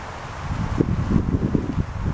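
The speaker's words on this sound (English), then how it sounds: "You know, it's a little windy." Wind buffeting the microphone, a low rumbling gusty roar with brief swells.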